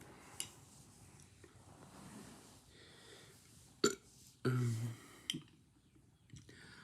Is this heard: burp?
yes